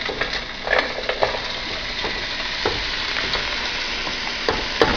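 Frozen spinach hits a pan of frying onion and toasted garlic, setting off a steady, close sizzle with intermittent stirring scrapes and soft clacks throughout.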